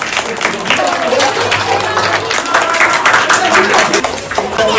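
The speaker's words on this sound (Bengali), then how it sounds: "প্রত্যেকে হাততালি দিয়ে উৎসাহিত করবে" An audience at a school prize-giving ceremony for International Mother Language Day claps in a dense, steady burst of applause that fills the room, with voices faintly mixed in.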